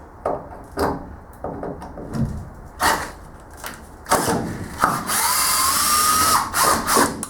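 A power drill drives screws into a wooden shelf board in short whirring bursts, then a longer steady run, between clunks of handling wood and tools nearby.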